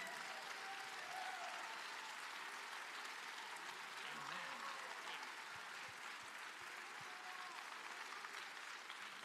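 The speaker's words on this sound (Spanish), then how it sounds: "If you're going to give the Lord a hand clap," Applause from a church congregation, steady sustained hand clapping from many people across the whole stretch, fairly distant and even with no voices on top.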